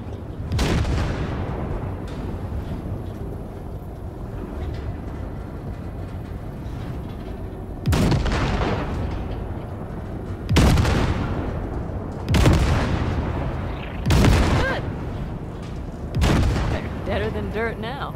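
Heavy gunfire blasts ship wrecks in Cyberpunk 2077, with five or six loud booming bursts landing at irregular intervals over a rumbling, droning game background.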